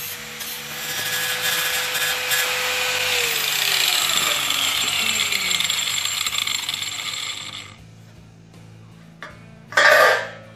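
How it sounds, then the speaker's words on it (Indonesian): An angle grinder smooths a light steel fence, a loud, close whirring grind with a falling pitch as the disc loads up, then it cuts off, with scattered clatter and a brief final burst of grinding. "Terakhir, baru kita rapikan lagi dengan menggunakan gerinda."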